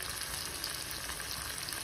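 Crushed garlic fries in oil with a steady, dense sizzle that stays even and unbroken, with no voices over it.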